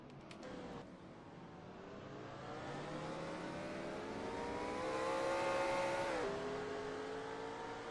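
NASCAR Racing 2003 simulated stock car engines on a road course, a rising, revving engine whine that builds and then drops with a gear change, steady and fairly loud, with no talk.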